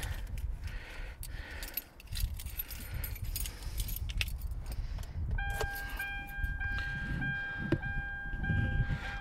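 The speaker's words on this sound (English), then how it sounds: "let's go ahead and start the car" Keys jangle and rattle near the microphone as a car with a hybrid supercapacitor battery install is started, the metallic clinks scattered over low engine and cabin rumble, with a steady electronic tone entering later.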